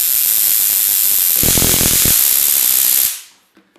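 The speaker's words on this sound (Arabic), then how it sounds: "فعندما نضع قطعة حديدية ستنتقل الكهرباء الموجود هنا سينتقل مباشرة إلى القطعة الحديدية" A homemade self-defense stun device sends electricity onto an iron piece with a loud, steady crackling hiss that swells into a harsher buzzing burst midway, then cuts off abruptly into near silence.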